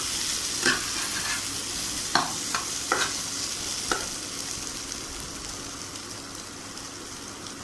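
Potatoes for a simple potato curry fry in a pan with turmeric, salt and a pinch of sugar, a steady hiss broken by several sharp scraping stirs, close and moderately loud with no voices.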